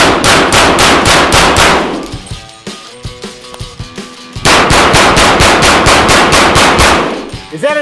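Loud, rapid bursts of gunfire from an M1 carbine ring out in two long rhythmic strings with a brief gap between them, close and sharp, with no talk over the shots.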